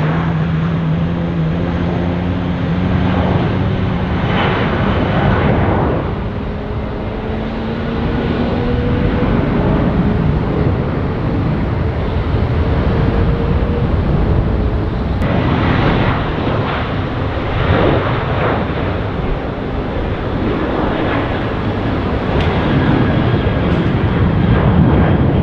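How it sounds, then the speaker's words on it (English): An Airbus A320 airliner at Tampa International Airport roars steadily with a loud, broad engine rumble and rising and falling whine tones as it taxis or moves nearby, with no talking. "American 2020, Airbus 320, 1 hour and 18 minutes, 507 miles to Charlotte."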